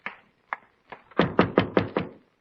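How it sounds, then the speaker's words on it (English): Knocking on a door: two or three single raps, then a quick run of five firm, evenly spaced knocks, close and clear in a quiet room. "Who is knocking?"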